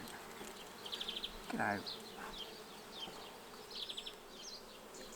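Honeybees buzz around an opened beehive during an inspection, a faint steady drone with short nearer buzzing passes, while a person speaks briefly.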